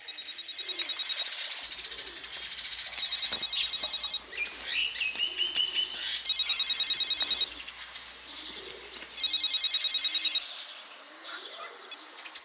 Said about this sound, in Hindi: ये फोन कितना बज रहा है?